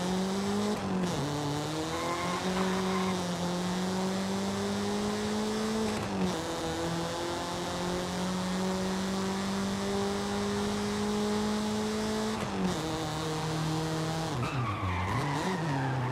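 Car engine in Forza Horizon 5 revving high and steady, pitch climbing through gears with brief drops at shifts, and tires skidding and squealing as it drifts, loud and continuous with no voices.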